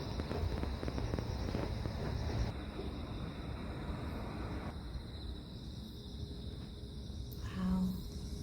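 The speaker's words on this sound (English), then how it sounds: "And I love the insect sound." Insects chirp outdoors in a rural setting near Camp Humphreys in Pyeongtaek, a steady high-pitched buzzing trill carrying on continuously, with some low rustling and a brief louder noise near the end.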